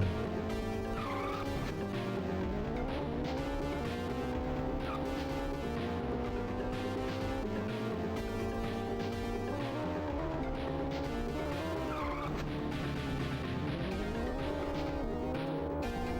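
Game car in an Atari Jaguar racing game braking hard and skidding, a continuous loud engine drone with shifting pitch sweeping under game music for the whole stretch, no talk.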